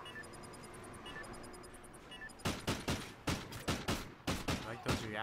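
Gunfire in Call of Duty Ghosts during a 2v2 match: a run of sharp, loud shots in quick succession near the end, after a quieter stretch of game sounds with beeping tones.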